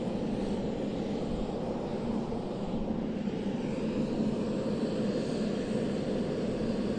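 Steady broadband aircraft engine roar of an airplane at an airport as the president is escorted off, heard from a little distance, constant and unbroken for the whole stretch.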